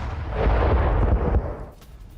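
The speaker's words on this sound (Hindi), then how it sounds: "एक के बाद एक 8 धमाके हुए हैं" Bombing explosions in Iran: a loud, continuous roaring blast rumble lasting about two seconds, with no voices, before it tails off.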